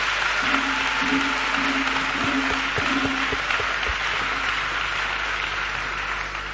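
A church congregation applauds together, a dense, steady wash of clapping that runs the whole time with a faint sustained tone beneath it.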